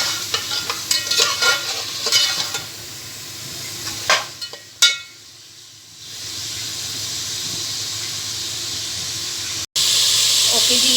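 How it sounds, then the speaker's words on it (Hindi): Mutton frying with garlic and ginger in a pan with a loud, continuous sizzle and hiss, punctuated by stirring scrapes and clatters early on. "लहसुन अदरक और गोश्त को अच्छे से भून रहे हैं"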